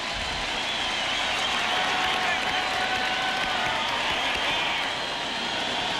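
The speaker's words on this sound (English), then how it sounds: "They just can't stop cheering." A packed baseball stadium crowd cheers and applauds without letup during a 1998 St. Louis Cardinals versus Chicago Cubs game, a dense, steady roar of clapping and shouting that fills the whole stretch, with a commentator's voice faintly beneath.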